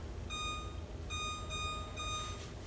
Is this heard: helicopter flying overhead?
no